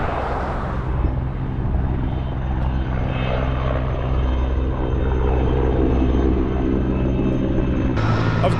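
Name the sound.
helicopters flying overhead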